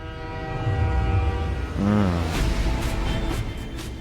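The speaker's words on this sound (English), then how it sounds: "as the train rumbles out of Camp 18, he rides with it" A heavy train, coal wagons in tow, rumbling out of a North Korean prison camp: a steady low mechanical roar with a brief horn-like tonal sweep midway, fairly loud and continuous, no speech.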